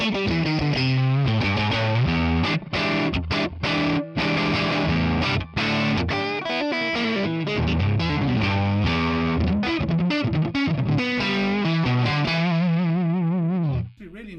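Electric guitar through a ToneX capture of a 1958 Gibson amp on a fuzzy crunch setting, loud, dense strummed chords and riffs played continuously with a gritty saturated edge, ending on a wavering sustained note.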